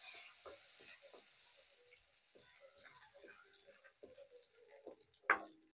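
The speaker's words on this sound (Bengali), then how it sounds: "দেখো লড়াছাড়া করে আমি ভাজে নিব।" Cumin and coriander seeds fry in a pan for baingan bharta, a soft steady sizzle under scattered scraping and clinking from stirring, with one sharper clatter near the end.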